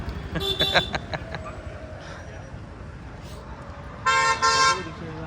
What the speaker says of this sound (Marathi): रिक्षा आलेली आहे.